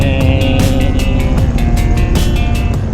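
Loud, droning engine noise with rhythmic pulsing as scooters pass on the road, heard from a cruiser motorcycle riding nearby; the engine sound stays close and continuous throughout.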